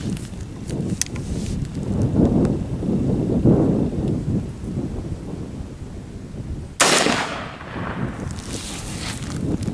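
A single sharp rifle shot firing .223 ammunition at a target 40 yards away outdoors, one loud crack followed by a short decaying echo amid wind and rustling background noise.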